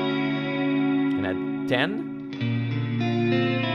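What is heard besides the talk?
Neunaber Wet Reverberator reverb plugin effect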